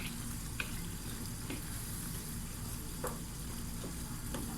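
Tomato paste sauce sizzles steadily in a pan with a soft, continuous frying hiss, broken by a few light scrapes and taps of a spoon stirring it; quiet and close, nobody speaking.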